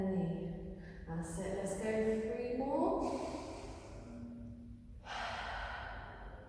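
Deep breathing during a stretch-and-balance exercise routine: a few long inhales and exhales, close and fairly loud, some with a soft voiced sigh.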